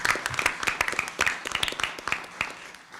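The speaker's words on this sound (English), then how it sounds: "Round of applause." Audience at a public district board meeting clapping in a loud round of applause for someone who has worked with the district for over 20 years, a dense spread of hand claps that fades slightly toward the end.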